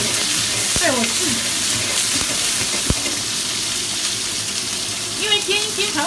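Prawns frying in a Chinese wok with watery olive oil containing sediment, a continuous close sizzle with sharp pops and spatters, a few clattering knocks of a utensil, and faint voices in the background.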